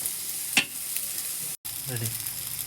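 Fried rice with Chinese vegetables stir-frying in a hot pan gives a steady, close sizzle, with one sharp utensil clink early and a brief cut in the sound midway.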